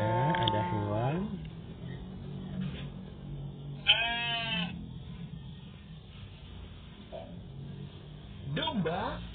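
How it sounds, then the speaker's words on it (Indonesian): Sheep being unloaded from a vehicle bleat in a few short, nasal calls spread across the stretch, with a person talking over much of it. "Ada domba."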